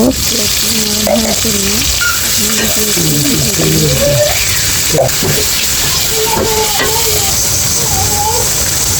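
Onions frying in hot oil in a pot for biryani, a steady close sizzle with scraping and stirring, while a voice talks intermittently over it.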